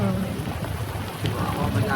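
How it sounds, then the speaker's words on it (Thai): Steady rain falling outdoors, a dense continuous patter with low rumbling underneath, fairly close and even throughout. "ตอนนี้ฝนตกค่ะ"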